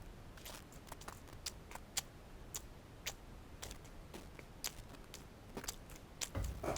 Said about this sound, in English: It's like 5 minutes of just chewing noises.